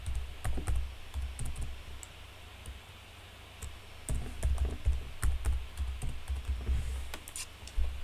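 Someone types a password on a computer keyboard, producing close, quiet bursts of clicking keystrokes with short pauses between runs and no talking.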